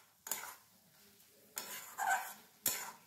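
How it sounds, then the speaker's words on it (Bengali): Poppy seed paste and bottle gourd stirred in a pan, three separate scraping, clattering spoon strokes against the metal, quiet and close, with near silence between them and no voices. "এইভাবে পোস্তটাকে খুব ভালোভাবে অনেকক্ষণ সময় নিয়ে নাড়াচাড়া করতে হবে"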